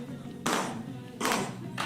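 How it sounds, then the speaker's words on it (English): Hand claps for a song mix, three crisp, bright claps at a steady, spaced pulse over a low background hum. "but add some hand claps"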